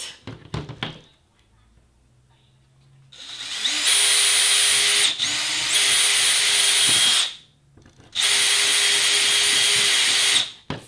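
A power drill whines loudly in three sustained bursts, each lasting a couple of seconds with brief pauses between, while holes are drilled during a Han Solo blaster prop build; a few knocks come first.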